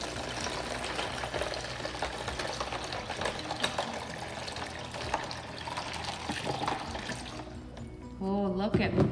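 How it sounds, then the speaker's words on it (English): Water is poured into a container holding seaweed and small floating and sinking toys, a steady splashing, gurgling stream lasting several seconds, close and fairly loud, ending in a brief burbling fill. "So I'm gonna pour the water in."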